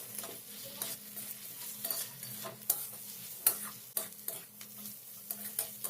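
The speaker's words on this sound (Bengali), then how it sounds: "এবার সমস্ত কিছু মশলাকে খুব ভালো করে নেড়েচেড়ে ভেজে নিতে হবে।" Cumin powder and ginger-garlic paste stirred and frying in a pan for Bengali raw banana kofta curry: a steady soft sizzle with repeated scraping strokes of a spoon, no voices.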